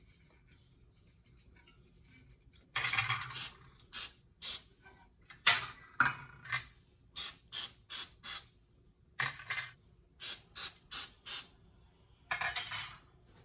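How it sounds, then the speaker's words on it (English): A series of sharp hissing bursts of palm oil spray greasing idli molds, about a dozen short puffs in irregular groups with quiet gaps between them, close to the microphone. "with the help of a palm spray"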